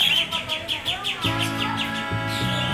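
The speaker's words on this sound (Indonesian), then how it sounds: "Nih, jadi ini burung cendrawasih." A bird of paradise at a zoo in Lembang, Bandung gives a run of rapid, repeated high calls, fairly close and clear, with a low hum of background activity and distant voices beneath.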